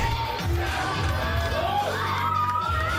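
A wrestling arena crowd cheers and shouts steadily at close range, with whoops and yells rising over the ongoing roar.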